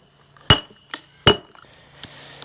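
Sharp metallic clinks ring out as a steel wedge is driven into a log to split it, two loud close strikes followed by softer taps and faint creaking.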